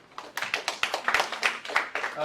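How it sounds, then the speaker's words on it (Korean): Scattered, distinct hand claps from a seminar audience welcoming a presenter at a policy forum, a short burst of separate claps rather than a full roar. "큰 박수를 모시죠."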